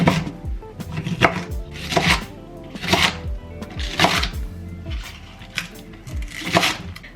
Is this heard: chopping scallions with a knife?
yes